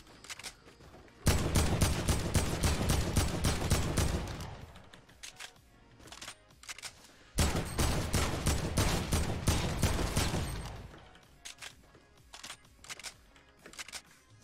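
Sustained fully automatic AK rifle fire in Fortnite comes in two long rapid bursts of about three seconds each, loud and close, with scattered single shots and game clatter between them.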